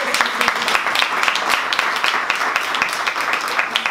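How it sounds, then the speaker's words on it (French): Steady applause from a sizable crowd at a Telethon coordination meeting, dense and continuous throughout with no pauses, moderately loud. "alors comme je crois qu'on peut applaudir"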